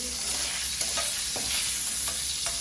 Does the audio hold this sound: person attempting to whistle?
no